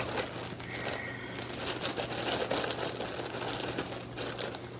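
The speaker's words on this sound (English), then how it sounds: "I have another plastic bag here that I need to open up." Plastic bag holding yarn skeins is opened by hand, quiet close crinkling and rustling in short bursts over several seconds.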